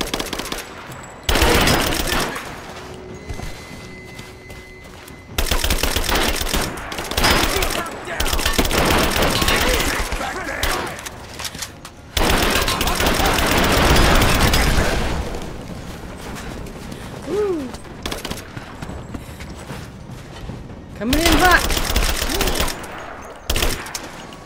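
Rapid bursts of automatic gunfire and single shots in the game Rise of the Tomb Raider, loud and close in several long volleys, with a voice talking between them.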